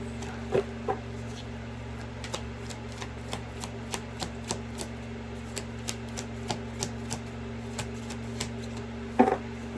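A deck of oracle cards is shuffled by hand during a card reading, giving a series of soft, evenly spaced taps and riffles, faint and close against a quiet hum, with a slightly louder flurry near the end.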